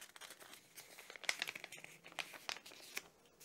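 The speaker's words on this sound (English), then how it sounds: "I fold once, and then I fold it again, and then I fold it the 3rd time" A sheet of paper folded three times in a row, giving close, soft crinkling and creasing sounds in short bursts with no talking.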